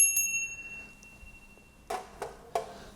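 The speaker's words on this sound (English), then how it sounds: "We offer the bell, because the bell's pleasant for the ears." A hand bell rung as an offering during Hindu temple worship, a few bright metallic strikes with a lingering ringing tone, followed by soft clacking taps; fairly quiet, no talking.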